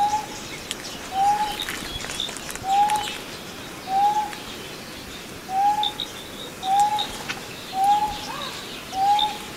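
A South African bird's call is played back as a regular series of short, clear, rising whistled notes, about one every second, moderately loud against faint background noise.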